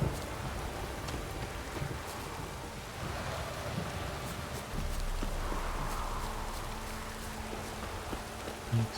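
Steady rain in The Witcher 3, a soft continuous hiss of drops on surfaces, fairly faint, with a few footstep-like thuds and low rumbles scattered through.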